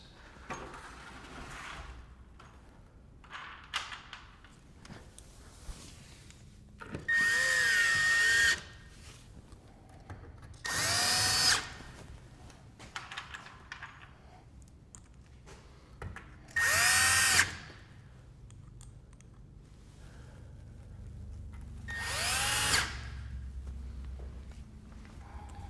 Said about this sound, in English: So I'm using the wood screws all around the perimeter into the cedar posts.